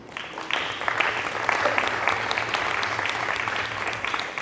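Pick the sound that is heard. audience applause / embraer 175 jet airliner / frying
audience applause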